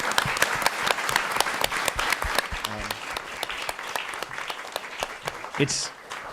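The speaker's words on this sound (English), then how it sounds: "I want to thank our panelists here and our panelists on Zoom with a great round of applause for joining us today." An audience at a panel event applauds the panelists with steady, dense clapping from start to finish. A few faint voices sound under the applause.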